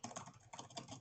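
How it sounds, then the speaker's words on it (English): Quick, clattering keystrokes on a computer keyboard in rapid bursts, close and fairly quiet, with no voices. "I'm typing really quickly and probably loudly."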